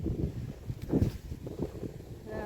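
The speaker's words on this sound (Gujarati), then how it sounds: "અહીંયા તો મસ્તીનો ઠંડો ઠંડો પવન આવે" Steady wind buffets the microphone in low rumbling gusts, with faint rustling and no clear voices.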